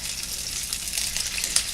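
Flour-dusted chicken frying in hot oil for orange peppered chicken, a steady close sizzle with scattered sharp grease pops, one louder crackle near the end.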